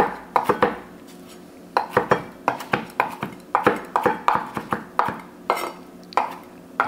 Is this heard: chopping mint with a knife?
yes